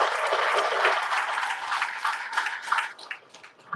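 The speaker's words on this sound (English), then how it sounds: "Please, young lawyers, a round of applause for the IGP." An audience of young lawyers gives a round of applause, loud dense clapping that thins into scattered claps toward the end.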